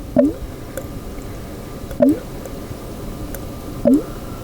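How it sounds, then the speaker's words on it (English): An airlock on fermenting apple cider bubbles three times at slow, regular intervals, each a soft liquid blip and gurgle over a steady low background hum. "That is the sound of the airlock"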